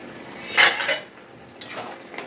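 A lid is set down on a cooking pot of bottle gourd simmering on a gas stove, giving a couple of close metallic clanks and rattles, followed later by softer clinks of pot and utensils.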